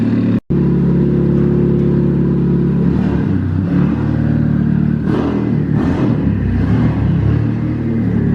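A turbocharged Chevrolet Cobalt SS drives with a loud, continuous engine roar that rises as it accelerates, close up and alone after a brief click at the start.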